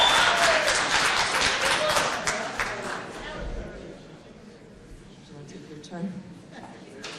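Applause at a town meeting rises loudly at the start, dense clapping mixed with crowd chatter, then fades over the next seconds into murmuring room noise with scattered voices.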